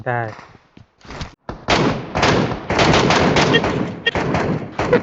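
Gunfire from PUBG Mobile Metro Royale crackles in dense, loud sustained bursts with sharp repeated cracks, following a brief voice at the start.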